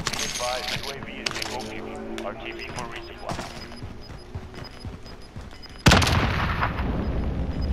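Video game gunfire, bursts of sharp shots and mechanical clatter under excited player talk, ending in a louder sustained blast of noise.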